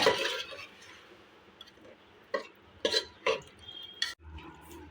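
A spoon stirs paneer biryani masala of onion paste, coriander powder and water in a pot, giving soft scraping under a low hiss and a handful of sharp clinks against the metal near the end. No one speaks.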